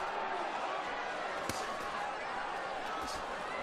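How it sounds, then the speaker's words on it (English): Heavyweight boxing punches land during a professional bout, with two sharp thuds about a second and a half apart over a steady arena hubbub. "these punches hurt. They sound like it."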